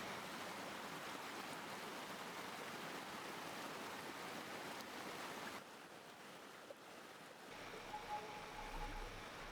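A waterfall at Alur Kermal in Batu Sumbang gives a steady, dense rush of falling water that fills the whole clip and dips slightly in level partway through.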